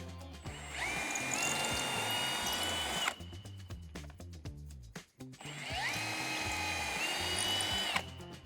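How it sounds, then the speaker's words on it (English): An electric drill whines loudly as it bores into a wooden post, running in two long bursts with a brief pause and rattling between them. "It's very important that you drill straight into your post"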